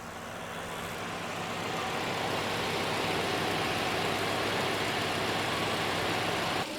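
A 1.5-litre Subaru Impreza engine idles steadily just after starting, a constant low hum with a faint whine on top, moderately quiet and unbroken, with no voices.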